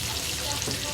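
Mantis shrimp sizzle steadily as they are sautéed with ketchup in a hot pan, a close, continuous frying hiss with no pauses and no voices.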